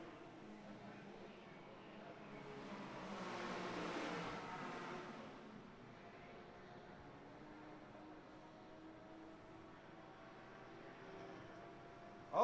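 Race cars in a FARA endurance event, including MP1B class machines and Porsches, sweep past on the circuit, one swelling loud then fading to a distant drone, with a sharp burst at the very end.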